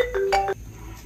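A phone ringtone plays for an incoming call, a few bright electronic tones over about half a second, loud and close, then stopping.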